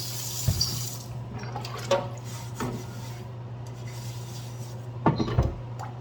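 Tap water runs at a sink while used cooking dishes are washed after making chicken pork adobo, a steady close wash broken by a few clinks and knocks of dishes.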